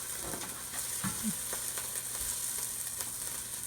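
Tomato sauce and vegetables being stirred in a hot pan for venison shanks, a steady close sizzle and frying hiss with soft scraping stir strokes throughout, no talking.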